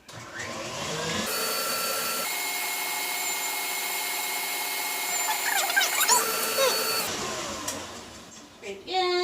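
An electric stand mixer creams butter and sugar for a summer berry torte, starting with a rising whir and settling into a steady motor drone for several seconds before winding down, with faint rattles near the end.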